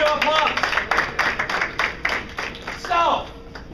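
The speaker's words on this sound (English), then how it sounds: "Round of applause." An audience claps in scattered bursts while people talk loudly over it, the applause uneven and close, rising and falling between voices.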